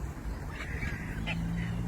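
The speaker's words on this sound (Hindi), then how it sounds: "ये अभी वहां से भी कुछ डक्स हजरात आ रहे हैं खाना खाने के लिए" Ducks approaching to be fed in Glasgow give a few short quacks and honks, close by, with faint background voices.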